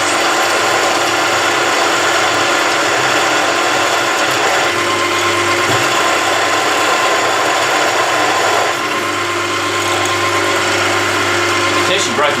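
A machine drills metal at 960 RPM with a hand-ground four-facet drill bit, breaking off chips on a CV joint job. It gives a loud, steady mechanical whine and grind that shifts in pitch partway through.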